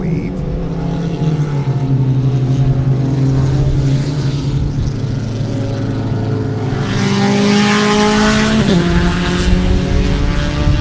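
Race cars roar past at Sebring, loud engine drones rising and falling with a shifting pitch as they pass close by, so loud they clip the microphone, with faint talk underneath.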